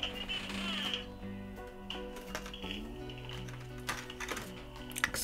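Quiet computer keyboard typing from a child playing on a computer in a nearby room, with soft scattered key clicks under a busier background of game-like tones and noise.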